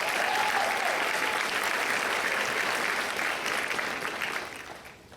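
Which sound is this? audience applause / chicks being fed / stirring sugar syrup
audience applause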